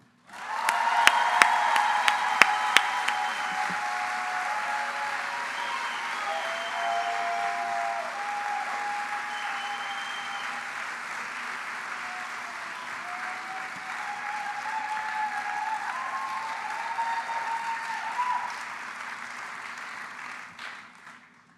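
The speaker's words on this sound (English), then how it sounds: "please join me in giving an inappropriately loud applause for the MPA class speaker of 2025, Sadie Harlan." Sustained loud applause from a large audience at a 2025 MPA class awards ceremony, dense steady clapping with a few sharp nearby claps early on, holding for about twenty seconds before fading out.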